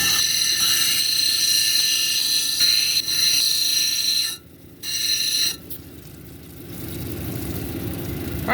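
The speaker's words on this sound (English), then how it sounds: "I'm going to grind this down to the line. We're going to start with the 80 grit" An amazonite cabochon is ground on an 80 grit wheel of a Kingsley North lapidary machine. A high, whining, scraping grind with bright tonal overtones is interrupted by brief pauses, then gives way to the softer hum of the running machine.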